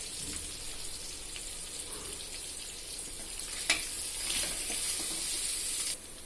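Potatoes fried in oil in a kadhai give a steady, close sizzle that stays fairly even throughout, with a couple of brief sharper crackles and stirring noises and no talking.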